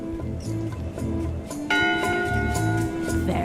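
A ship's bell in Return to Monkey Island strikes a few times, clear metallic rings over a low game backdrop. The strikes grow louder and fuller partway through.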